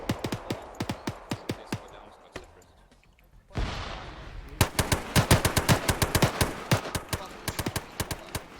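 Rapid bursts of automatic gunfire and single shots in ArmA 3 Cold War combat, a dense crackling volley, a brief lull with rushing noise, then heavy sustained firing, with faint voices underneath.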